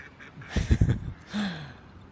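A duck gives a short burst of quacks lasting under a second, followed by a brief honk-like call, fairly close and clear.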